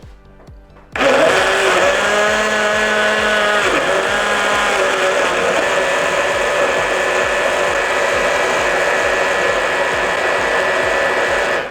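A Hamilton Beach blender whirs through milk after a quiet start, its motor jumping to a loud steady roar with a wavering pitch for over ten seconds before cutting off, close and alone.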